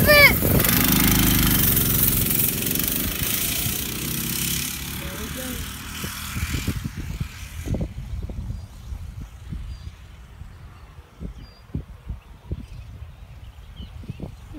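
A small vehicle engine revs hard at full throttle, loud and buzzing at first, then fading as it pulls away into a quieter stretch broken by bumps and knocks, with people talking over it.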